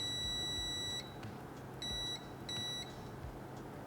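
A new multimeter beeps faintly while checking wires at a connector on an electric HMMWV: one long electronic tone, then two short beeps over a quiet background.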